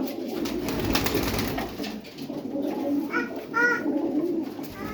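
Pigeons at a Punjab pigeon sale coo repeatedly in soft, throaty bursts, with a steady murmur of crowd noise underneath and a voice faintly in the background.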